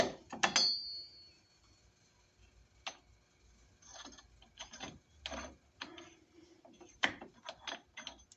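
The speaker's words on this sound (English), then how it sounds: "Grab my socket. Probably have to wiggle it to get that socket in there correctly." A ratchet socket clicks and clatters on a lug nut while a 1.5-inch 5x5 wheel spacer is fitted to a Jeep Commander: scattered close metallic ticks and short ratcheting bursts with pauses between them.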